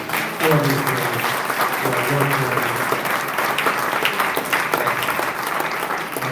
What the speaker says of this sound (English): give a round of applause to all the employees